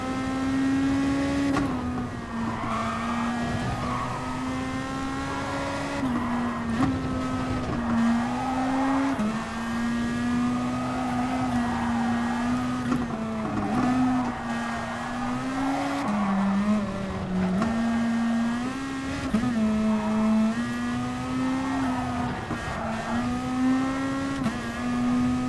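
Screaming GR.2 race car engine in GT Sport at Autopolis, revving hard through gear shifts with steady rising and falling pitch, tyres squealing under oversteer, loud and continuous throughout with no talk.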